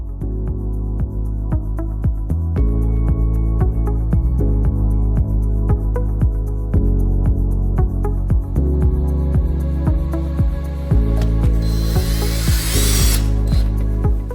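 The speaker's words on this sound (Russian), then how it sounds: "В данном случае монтаж делаем клеевой и прижимаем по краям саморезиками." Screwdriver driving self-tapping screws to fix panels around a stove-fireplace, heard as repeated close, loud motor whirs in short bursts with ratcheting clicks, plus a brief harsher noise near the end.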